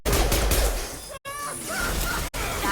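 Gunshots in Mass Effect 2 on Insanity difficulty, loud bursts of fire and impacts cut by two brief silent gaps, with a voice speaking over the combat.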